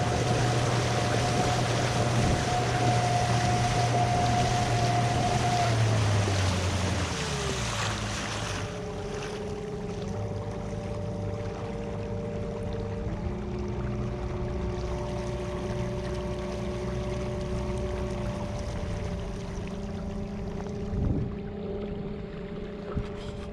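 Motor-powered kayak cruising on open water, a steady droning motor whose pitch drops partway through, over continuous wash and wind noise, close and fairly even in level throughout.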